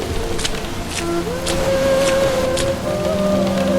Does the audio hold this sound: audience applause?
no